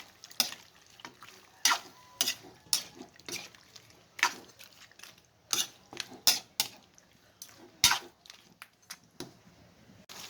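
A spoon stirs native chicken simmering in coconut milk and vinegar, making a steady, irregular run of close scraping clinks against the pot over a soft bubbling sizzle, with no talking.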